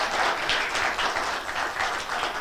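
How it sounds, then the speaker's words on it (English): Audience applause at an academic book launch, a steady, dense patter of many hands clapping close by without a break for a couple of seconds. "Big round of applause for our speaker today."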